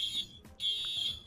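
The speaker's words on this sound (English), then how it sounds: "Bro, I can pull the freaking fire alarms!" A fire alarm pulled in the Roblox video game rings as a loud, steady high electronic tone, briefly cut by a short gap before resuming.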